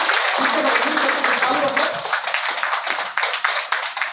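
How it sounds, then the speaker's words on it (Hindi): A group of trainees claps hands together during a training session, a loud, fast, continuous patter of many hands with a voice talking over it. "और जोर ताली बजाओ, और बजाओ"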